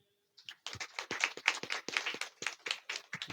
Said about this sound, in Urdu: تالیاں بجائیں جی